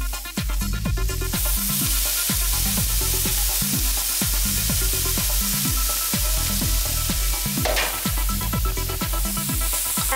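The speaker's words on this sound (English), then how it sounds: "And sauté the carrots for about 2 to 3 minutes" Grated carrots sautéing in melted butter with a small cinnamon stick, a steady close sizzle with rhythmic stirring and scraping strokes throughout, no talking.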